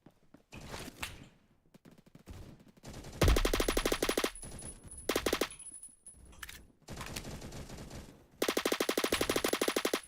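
Bursts of automatic fire from a G36 assault rifle in a Roblox shooter come in several loud, rapid volleys separated by short pauses, close and prominent.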